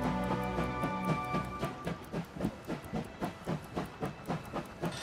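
A steam locomotive in the video game Last Train Home chuffs in regular rhythmic bursts with hissing steam and a faint whistle tone, fairly close and steady without talk.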